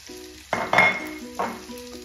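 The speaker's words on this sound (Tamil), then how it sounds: "இதுக்குள்ள இப்போ இந்த சின்ன வெங்காயத்தையும் போடுறேன்." Small onions drop into hot oil with fried shark, giving a sharp sizzle and a few clinks of a spatula against the pan in a short burst.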